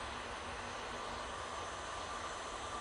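A Ryanair jet at Manchester Airport produces a steady, broad engine roar, distant and faint, with no distinct changes across the stretch.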